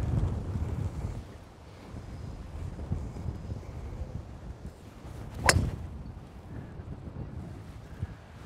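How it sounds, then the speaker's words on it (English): Strong gusts of wind on a golf course roar and buffet the microphone, rising and falling, with one brief sharp whoosh partway through. "wind's picking up, you can hear it. Super windy."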